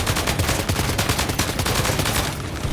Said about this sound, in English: How many fucking bullets?